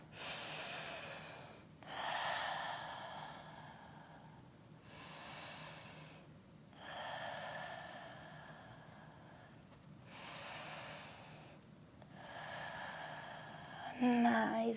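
Slow, deep breathing during a lower-body mobility workout: about three long cycles of audible inhales and exhales, close and steady, with soft pauses between breaths and a brief clatter at the end.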